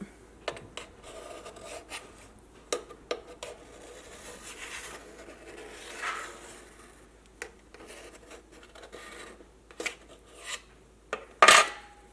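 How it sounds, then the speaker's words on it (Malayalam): Steamed rice appam being lifted out of a metal cooking vessel, heard as sparse scrapes, light clinks and rubbing knocks of utensil on pot, fairly quiet, with one sharper clatter near the end. "ഇനി ഇത് നമുക്ക് പാത്രത്തിൽ നിന്ന് പുറത്തേക്ക് എടുക്കാം."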